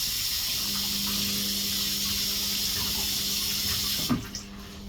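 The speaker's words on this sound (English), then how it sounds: "So now I'm going to put some washing up liquid on my hand instead. Wash my hands." Hands washed with washing-up liquid under a running kitchen tap, a steady close stream of water that ends with a brief splash and drip near the end.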